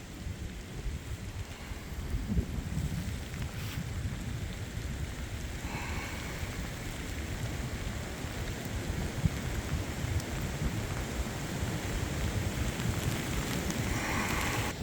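Steady rain patters and hisses without a break on Pennsylvania public land, with low rolling rumbles of thunder beneath it and occasional gusts.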